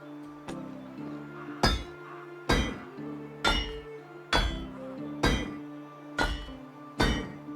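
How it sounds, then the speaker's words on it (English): Repeated hammering clinks as copper hammers are crafted in a farming video game, about eight evenly spaced metallic strikes over a steady tonal game music bed, fairly quiet. "Let's build a couple of copper hammer."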